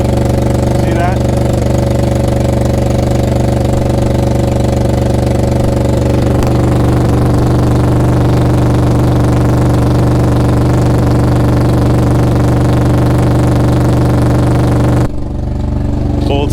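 An Infiniti G37S with a Motordyne exhaust that needs fixing idles loud and close in a steady, even drone, then cuts off abruptly near the end, leaving quiet.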